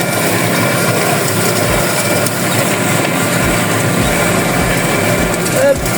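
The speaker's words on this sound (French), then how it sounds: "Je suis en train de faire le dernier petit bout." A tractor-driven rotary hay tedder turns meslin straw in a field, its engine and rotating mechanism giving a steady, loud, continuous rattling drone with no pauses.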